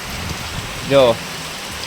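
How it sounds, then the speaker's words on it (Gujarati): Heavy rain drums steadily on surfaces over open farm fields, a constant close wash of sound, while a person briefly calls out a single word partway through. "અને વરસાદ બહુ ચાલુ છે"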